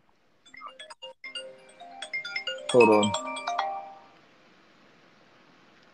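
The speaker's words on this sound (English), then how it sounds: "That's my work phone real fast." A work phone rings with a run of bright electronic tones that peak in a dense burst and then fade; someone briefly speaks over it.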